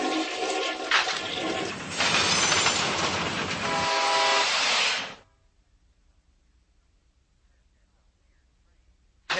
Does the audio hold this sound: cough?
no